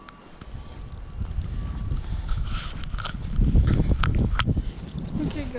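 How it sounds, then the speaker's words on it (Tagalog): Strong wind during a snowstorm gusts and buffets the microphone with low rumbling roars, swelling and fading irregularly, with faint thuds and rustles mixed in and no clear speech. "Malakas ang snow, malakas ang hangin."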